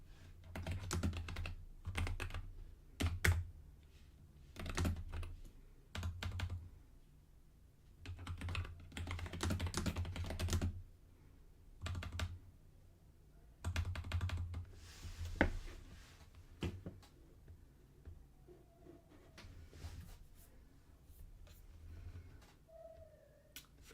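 Someone types on an XYZ keyboard fitted with Work Louder keycaps, producing bursts of close, crisp keystroke clatter separated by short pauses, heard alone.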